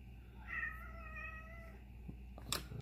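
A house cat meows loudly and drawn-out for about a second nearby, falling quiet before a brief clatter of handling noises; no one speaks.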